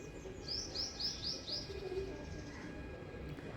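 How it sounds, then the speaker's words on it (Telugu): A quick run of five high chirps from a small bird, faint against a soft outdoor background, followed by a low coo. "ఇదిగో చూడండి ఇంకో చిట్టి పిట్ట వచ్చింది"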